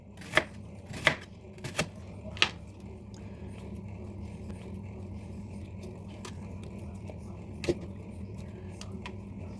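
A few sharp knife chops through onion on a cutting board near the start, followed by quieter kitchen rustling and one more isolated chop later.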